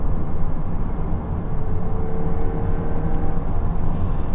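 A nearly new VW Golf 8 R Performance Pack accelerating hard on kickdown in automatic mode, with a dense, steady engine and road roar heard from inside the cabin, loud and continuous with no talking.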